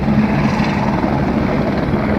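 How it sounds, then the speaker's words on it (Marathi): A helicopter taking off near snowy mountains drones loudly and steadily nearby, a constant low chopping roar with no voices. "बघताय दुसरं हेलिकॉप्टर आता टेक ऑफ झालेला आहे."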